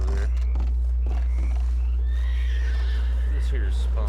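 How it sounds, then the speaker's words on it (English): A wild horse in Red Dead Redemption whinnies with rising, wavering tones, a game sound of moderate loudness heard over a steady low hum and a few soft thuds. "There's a wild horse over there."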